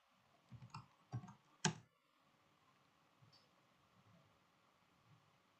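Three or four close keystrokes on a computer keyboard enter an ipconfig help command, then give way to quiet room hiss.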